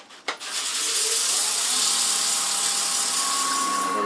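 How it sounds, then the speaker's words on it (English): A turned burl wood box spins on a lathe while being sanded through the grits: a steady, bright whirring hiss that begins after a brief knock and holds evenly, loud and close, with no talk. "I think all that needs is some sanding and smoothing over the top"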